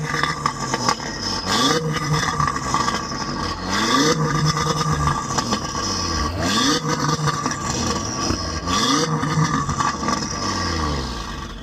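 A loud car exhaust at a car show revs repeatedly in sharp bursts, roaring up and falling back several times in a steady rhythm, close by.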